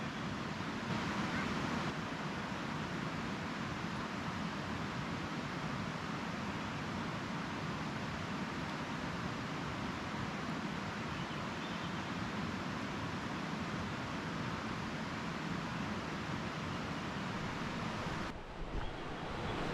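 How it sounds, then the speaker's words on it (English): Dosewallips River water flowing steadily near a campsite along the trail in Olympic National Park, a dense continuous rush that stays loud and unbroken throughout with no talking. "just enjoy the birds singing and the sound of this water"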